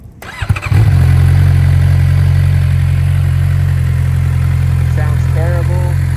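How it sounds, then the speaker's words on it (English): A 2019 Suzuki GSX-R600 sport bike with its stock exhaust cranks briefly and fires up, then settles into a steady, loud, close idle with a deep even drone. A voice speaks faintly near the end. "Here's the startup of the stock exhaust."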